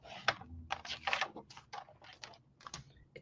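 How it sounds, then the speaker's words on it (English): Paper being cut in half for a 6x8 Doodlbug Bee Happy ring binder craft project, heard as a quick series of crisp, close cutting and rustling bursts with a faint voice in the background. "So I'm just going to cut this in half at 4."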